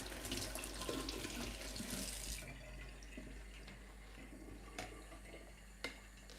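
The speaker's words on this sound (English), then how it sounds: "I'm just gonna wash off the spring onion" Spring onion is rinsed under a running kitchen tap, a steady splashing stream that eases after a couple of seconds into quieter trickling with a few sharp drips and clinks.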